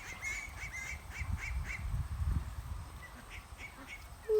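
Several honking goose calls ring out in short bursts over low, rumbling background noise, fairly close, with a sharper call at the very end.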